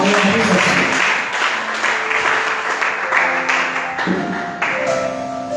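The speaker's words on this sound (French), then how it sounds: "On acclame le Seigneur très très fort." A church congregation applauds loudly and continuously, dense rhythmic clapping filling the space for several seconds with no pauses.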